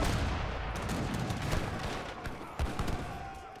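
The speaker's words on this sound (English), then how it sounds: "Here comes Khazar with the mortar push." Mortar artillery fire in an Age of Empires III: DE match, a dense continuous barrage of overlapping booms and shots with a sharper heavy blast near the end, loud and close, with no talking.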